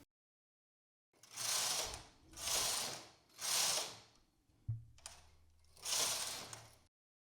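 A knitting machine carriage is pushed back and forth across the needle bed to knit rows, giving four near, swelling mechanical whooshing rattles, each about a second long, with a brief clunk between passes.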